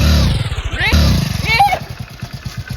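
A motorcycle engine putters and revs close by, its pulsing low throb rising and falling in bursts, while voices talk loudly over it.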